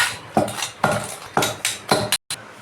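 Gongura leaves are pounded and ground in a stone mortar with a pestle, giving about six heavy, rhythmic thuds with a scraping tail, close and loud, with no voices.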